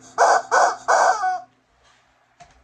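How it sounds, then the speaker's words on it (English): A pet chicken gives three loud, close clucking calls in quick succession, then a couple of faint softer sounds in quiet surroundings. "I even had time to play with my chicken."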